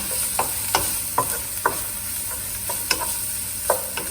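Vegetables for a vegan curry base being stirred in a hot pan over a steady sizzle, with a scrape of the spoon against the pan every half second or so.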